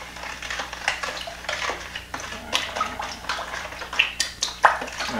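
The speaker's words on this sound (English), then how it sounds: "let's keep stirring this bad boy up" Kool-Aid mix being stirred by hand in a container of liquid makes a busy run of scraping clinks and sloshing swirls, fairly close and continuous, with sharper knocks toward the end.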